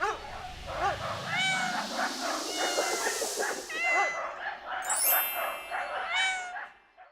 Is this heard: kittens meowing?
yes